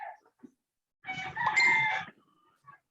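A rooster crows once, a loud strained cock-a-doodle-doo lasting about a second, with a couple of brief faint clucks before and after in an otherwise quiet room.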